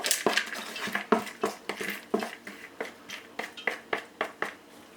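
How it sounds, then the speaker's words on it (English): A spoon stirs lentil curry in a cooking pot, giving repeated close scraping and knocking strokes at a steady rhythm with no talk. "Stir this in real shortly."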